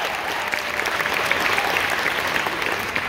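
Audience at a live book-tour conversation event bursting into sustained applause, a dense, even wash of clapping from a large crowd that holds steady for a few seconds.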